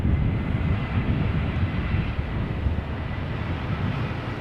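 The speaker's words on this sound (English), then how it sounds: "Airways A320 Neo arriving from Rome" Airbus A320neo jet arriving at Amsterdam Schiphol from Rome; a loud, close, continuous engine rumble with heavy low end fills the moment, easing slightly toward the end, with no voices.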